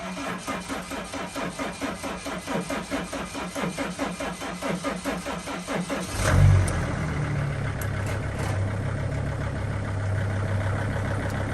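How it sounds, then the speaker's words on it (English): A 2005 Freightliner Sprinter 2.7L diesel van with glow plug faults cranks with a rhythmic, pulsing starter whir, catches with a loud surge after about six seconds, then settles into a steady, close diesel idle. "we're gonna go ahead and start this vehicle up"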